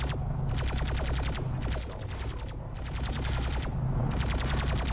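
Bullets striking a base crawler in the Homeworld: Deserts of Kharak video game, a continuous rapid rattle of impacts in steady repeated bursts with a low rumble beneath and short brief pauses.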